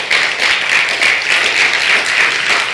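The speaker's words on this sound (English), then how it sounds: "Clap your goddamn hands if you're ready for revolution." A rally crowd at a birthday speak-out for Mumia Abu-Jamal claps steadily, a dense, even wash of applause from many hands that holds at full strength throughout, with no voices over it.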